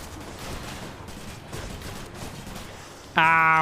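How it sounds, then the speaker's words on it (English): Rapid enemy gunfire in the video game Hades, a dense rattling burst that runs continuously at moderate loudness, ending in a sudden loud tonal game sound. "Please do not shoot. Thank you. He says while shooting."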